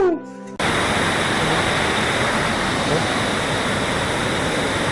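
A brief voice at the start, then the loud, steady roar of a waterfall pouring continuously nearby.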